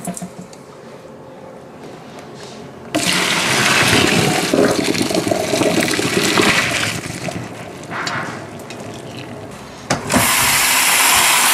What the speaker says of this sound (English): So I'm just running cold water through them to kind of cool them down.